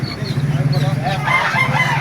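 Loud wet chickens at a poultry market in Baliuag, Bulacan clucking and crowing together, busy overlapping calls close by, with a constant low hum underneath and a faint voice mixed in.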